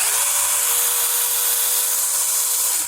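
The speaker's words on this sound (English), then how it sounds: "I turned it into a handheld chainsaw." A small cordless chainsaw cutting a branch runs at a steady high whine for about three seconds, close and loud, then cuts off abruptly.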